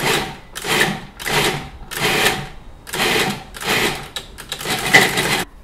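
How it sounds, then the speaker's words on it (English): Cuisinart food processor with an S blade chops cauliflower in a series of short pulses, about seven bursts of loud whirring and chopping spaced roughly a second apart, each separated by brief pauses. "I put them in the Cuisinart, or food processor, with the S blade, and I just pulse"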